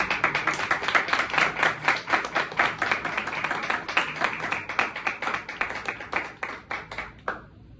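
A small audience claps in welcome as a bouquet is presented at a gathering in Karachi, with distinct, fairly even individual claps building into a steady run for several seconds before cutting off abruptly.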